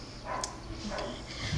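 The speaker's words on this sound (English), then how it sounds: "By the way, my dogs are barking." Dogs bark somewhere in a house, a few short muffled barks in the background over steady room noise.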